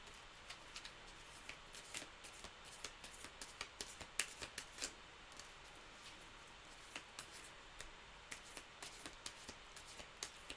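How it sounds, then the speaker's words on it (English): Tarot cards being shuffled by hand, close and quiet, with a continuous run of soft riffling and sharp little card snaps. "They're making me really shuffle the decks today."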